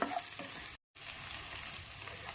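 Small shallots sautéing in oil with dried red chillies for a tomato chutney, a steady broadband sizzle with a brief dropout near the start before it resumes evenly.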